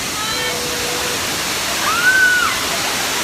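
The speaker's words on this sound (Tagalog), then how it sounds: "So, andito na tayo sa first falls. Ito yung tinatawag nilang Kambal Busay." Kambal Busay twin waterfall in Bulusan, Sorsogon, roaring as a steady, loud broadband rush of falling water close by, continuous throughout with a brief whistle-like tone rising above it.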